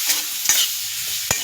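Taro being stirred in a wok with ginger-cumin paste, a soft steady sizzle broken by a few quick scraping strokes of the spatula against the pan, close and clear with no voices.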